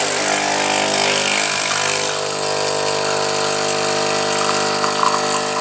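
De'Longhi Nespresso Gran Lattissima EN650 coffee machine brewing a capsule, a loud steady pump drone with mechanical hum that runs throughout and eases slightly partway, with no talking.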